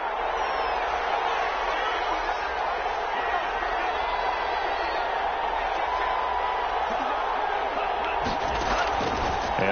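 Constant loud roar of a stadium crowd in a Madden NFL football video game fills the background, swelling steadily with scattered shouts, while a commentator talks over it.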